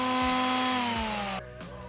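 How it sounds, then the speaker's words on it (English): A power tool sanding a wooden pallet gives a loud, close, steady whirring drone with a tone that drops slightly before it cuts off and winds down. "we're gonna actually go ahead and we're gonna sand it."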